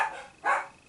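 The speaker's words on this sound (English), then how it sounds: "Excuse the dogs." A dog gives a couple of short, sharp barks nearby, close to the microphone, with no talking over them.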